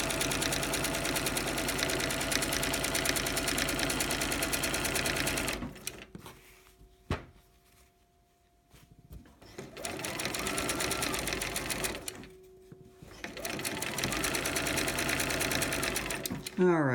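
A sewing machine stitches binding onto a cotton quilt in long, steady bursts of running motor hum, pausing briefly around the middle with quiet gaps before resuming at full speed.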